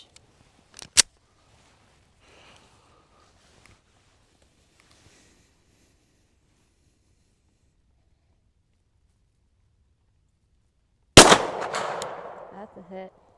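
A SIG P365 FUSE pistol fires S&B 115 grain rounds at a steel plate 100 yards away outdoors by a tree line: one sharp loud report early on, a long quiet stretch, then another loud report with a lingering echoing tail.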